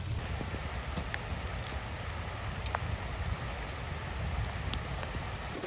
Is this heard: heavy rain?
yes